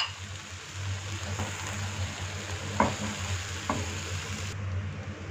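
Flour roasting in a pan on medium-low heat while it is stirred, a continuous soft sizzle under a low hum, with a few light scrapes of the spoon against the pan.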